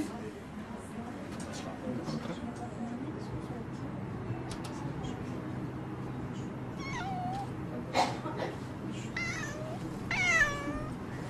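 Several cats meow now and then, some high and drawn out, over a steady room murmur in a cat café that houses around twenty cats; the meows sit mid-distance and grow more frequent toward the end.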